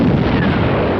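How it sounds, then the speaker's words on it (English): A loud, booming explosion blast from the 1973 James Bond film Live and Let Die fills the short moment with a dense, rumbling roar. "And the explosions."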